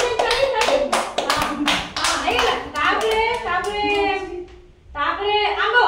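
Children clap their hands in a classroom activity, a string of sharp bursts in quick rhythm over the first few seconds, mixed with lively talk from a teacher and kids throughout.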